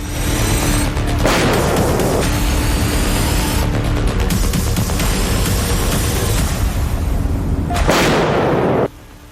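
Loud, continuous bursts of heavy gunfire and booming blasts in combat between Ukrainian and Russian forces, dense and sustained with brief roaring surges throughout.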